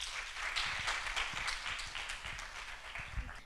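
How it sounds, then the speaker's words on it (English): Scattered applause for a contestant at a Miss Teen Botswana project presentation, a modest round of clapping that stays quiet and steady throughout, with brief louder claps near the end. "Ladies and gentlemen, a round of applause"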